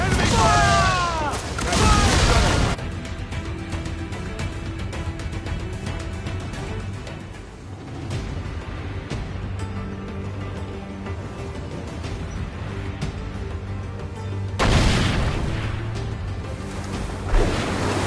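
Heavy naval cannon fire in a video game battle, with loud booming bursts at the start and again near the end framing a stretch of lower rumbling and mechanical noise, with voices speaking at times.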